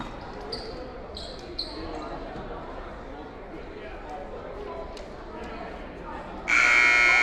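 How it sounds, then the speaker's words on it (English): A loud electronic buzzer blares for about a second at the end, after a stretch of crowd chatter and scattered squeaks in a gym, marking the start of the second half of a girls varsity basketball game. "And there's the buzzer."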